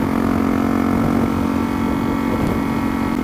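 Honda CRF250L converted to supermoto, engine running: a steady mid-pitched single-cylinder drone with a faint throb, continuous and fairly close throughout, no voices.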